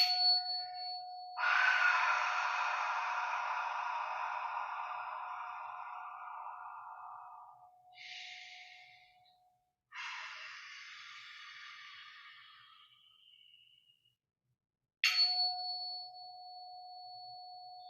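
A bright metallic ringing tone sounds repeatedly, each strike sustaining and slowly fading, with short gaps of silence between rings.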